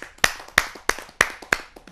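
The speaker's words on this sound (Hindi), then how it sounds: "मैं उनको बुलाना चाहता हूं आप सबकी जोरदार तालियों के माध्यम से।" An audience at a Hindi kavi sammelan poetry gathering claps in slow, sparse, evenly spaced beats, about five sharp claps close by in under two seconds.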